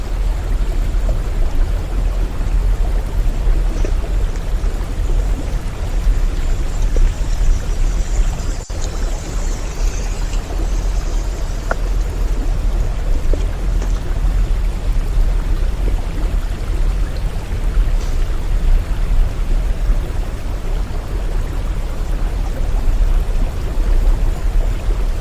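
Dampalik Falls in Los Baños, Laguna, a waterfall roaring as a steady, loud wash of falling water that holds constant throughout, with no voices.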